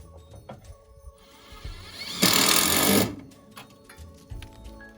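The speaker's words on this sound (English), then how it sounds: "I hammer one of these in, it vibrates the whole roof and snow falls down my shirt." A hard mechanical buzzing burst of about a second rises over scattered knocks and clatter during work on a snowy roof in winter, loud and close with no talking.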